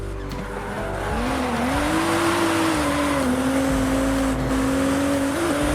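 A race car engine sound effect for a blue toy race car: a sustained, close engine whine that climbs and holds in pitch, with a brief tire-squeal-like edge, heard alone without talk.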